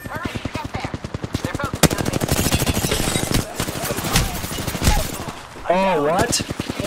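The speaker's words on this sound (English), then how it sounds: "The enemies are shooting I need help." Rapid automatic gunfire from enemies in a video game rattles in long continuous bursts close to the player, while a voice speaks over it and someone's speech comes through near the end.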